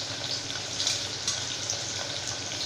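Onions and curry leaves sauté in oil for tamarind rice, a steady soft sizzle and crackle, close and alone.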